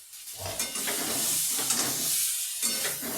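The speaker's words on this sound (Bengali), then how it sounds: "কুমড়ো ভাজাটা হয়ে এসছে।" Pumpkin slices fry in a pan, a close sizzling hiss with brief stirring and scraping moments breaking through, no voices.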